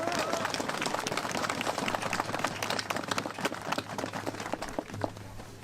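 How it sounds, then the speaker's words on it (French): A crowd applauds outdoors at the close of a veterans' commemoration ceremony, with continuous, fairly even clapping at moderate distance and a low hum beneath it. "bonne main d'applaudissements."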